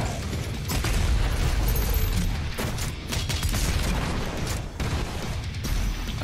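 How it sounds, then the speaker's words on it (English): Rapid, heavy shotgun blasts from the Super Shotgun in the first-person shooter Doom Eternal, dense and loud amid continuous game combat noise, with several booming shots across the span. "Super shotgun, I guess."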